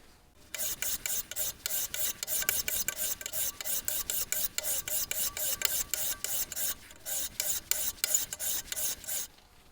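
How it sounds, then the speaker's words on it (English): A hand file is drawn repeatedly across the metal tool rest of a wood lathe, producing rapid, evenly spaced rasping strokes that continue close and clear without any voice. "I actually am still filing on that to make sure everything stays even."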